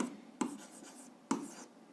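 A pen or marker writes out an algebra exercise in quick, quiet strokes, with two sharper taps as it touches down, close and alone without speech.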